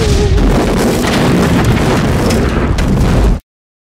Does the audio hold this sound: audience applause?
no